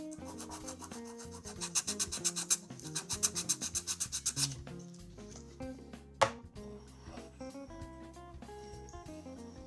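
A Fretalizer (FRTLZR) German fret tool sanding and leveling a guitar fret: a run of quick rhythmic rasping strokes, close and fairly loud, followed by a single sharp knock, with faint tonal ringing underneath.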